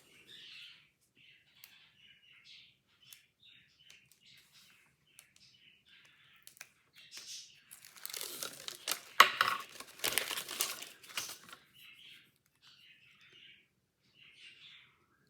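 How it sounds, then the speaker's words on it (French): Pet birds kept in a bathroom chirp faintly and intermittently at a distance, with louder rustling and crinkling noises swelling through the middle before the soft tweets return. "j'ai mis mes oiseaux dans la salle de bain, mais on les entend un petit peu."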